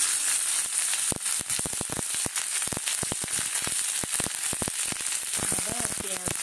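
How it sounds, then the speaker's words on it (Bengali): Ginger hits hot mustard oil in a pan and sizzles loudly and steadily, with sharp crackling pops scattered throughout and a faint voice speaking near the end. "অল্প একটু সর্ষে তেল দিচ্ছি। এইবারে দেব আদা"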